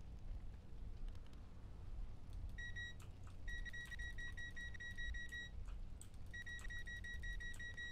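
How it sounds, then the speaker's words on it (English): A metal detector in a video game beeps in repeated short, evenly spaced electronic tones, starting partway through and returning in bursts over a low steady hum. "Oh, it's a metal detector"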